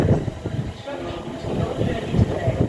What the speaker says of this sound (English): We have a freight service coming through.